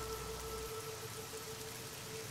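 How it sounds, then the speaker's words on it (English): Steady rain in the video game Fallout: New Vegas hisses evenly throughout, a dense wash of droplets with a faint tonal hum beneath it. "Hey, it's raining!"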